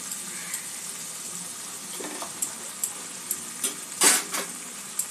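Chicken fries with spices in a pan, giving a soft, steady hiss with occasional brief crackles and a louder sizzle burst near the end.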